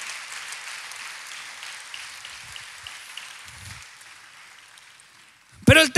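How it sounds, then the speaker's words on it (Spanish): Church congregation applauding during a sermon, a soft, diffuse patter of many hands that gradually thins and fades, ending with a sudden loud burst of sound at the close. "Dale un fuerte aplauso al Señor."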